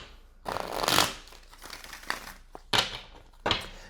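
Non-sticky tarot cards are shuffled by hand in a few quick papery bursts of riffling and flicking, close and crisp, separated by brief pauses, with no talking.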